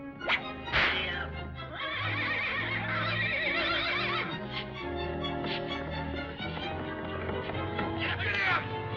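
A horse neighs in the 1939 Fleischer cartoon Gulliver's Travels, with a whinny at the start and another at the end over orchestral music.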